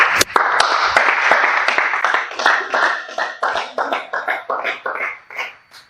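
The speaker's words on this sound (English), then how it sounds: "A round of applause to Zion." A small audience claps for a presenter: a burst of applause that starts dense and lively, then thins into scattered claps and dies away.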